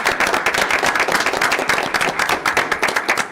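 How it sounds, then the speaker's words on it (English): Audience at a regular school board meeting clapping together, a lively, close run of individual hand claps forming steady applause that carries on at a fairly loud level without talk. "join me in giving them a big round of applause tonight"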